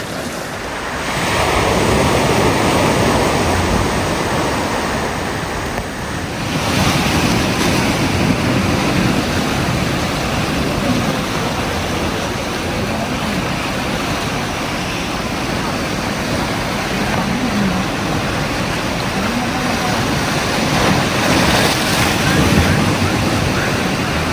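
Pacific surf breaks steadily on a rocky beach along the Juan de Fuca coast near Port Renfrew, a loud, continuous roar with gusts of wind buffeting the microphone and a faint high whine at the start.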